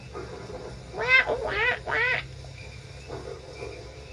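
A person imitates a duck with their voice, giving three quick, nasal quacking bursts close up, then one fainter quack after a pause, in a quiet room.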